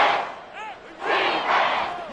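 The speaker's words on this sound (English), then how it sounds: "This crowd turning up the decibel level." Stadium crowd roar in Madden NFL football, a broad sustained wash of cheering that swells after a brief dip, with a whistle-like tone rising through it midway.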